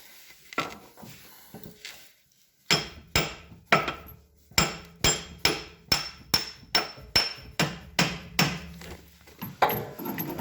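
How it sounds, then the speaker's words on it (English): A hammer strikes a CV axle shaft on a 2005 Dodge Ram 1500 about a dozen times in a steady rhythm, sharp ringing taps close up, after a few lighter knocks at the start. "You're going to take your handy dandy little hammer."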